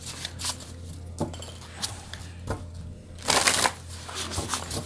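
Modern Love Tarot cards shuffled by hand, a steady close run of papery riffling and slapping with a louder burst of flicking partway through, heard alone without talk.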